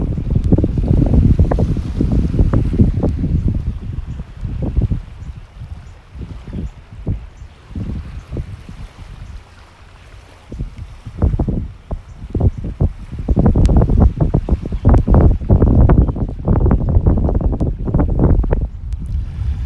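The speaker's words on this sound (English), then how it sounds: "Wind's blowing pretty strong. It's blowing offshore" Strong offshore wind gusting across a beach at Wiggins Pass in North Naples, Florida, before dawn, with loud buffeting wind noise on the microphone rising and falling in bursts throughout, and no one talking.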